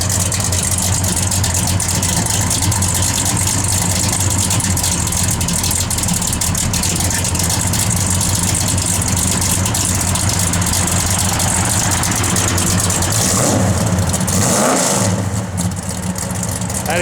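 A 1967 Plymouth Satellite V8 idles with a lumpy, loping cam rhythm, then revs briefly near the end before settling back down.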